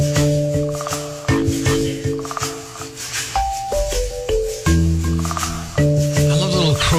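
Lullaby-style arrangement of a song played on soft, bell-like toy or music-box tones: gentle sustained notes move through the riff in short phrases, close and clear.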